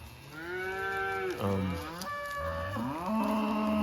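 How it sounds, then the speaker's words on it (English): Cows bawling for their calves in a grassy pasture, several loud drawn-out moos overlapping and following one another at close range, with steady outdoor background. "The cows are still bawling for their babies."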